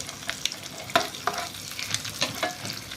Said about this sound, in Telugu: పోపు లేచి ఫ్రై చేసుకోవాలి